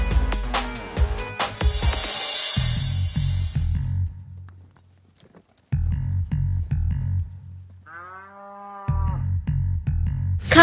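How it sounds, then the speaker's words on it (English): A farm cow moos in low, drawn-out calls broken by pauses, loud and near, heard alone without any talking. "Cow."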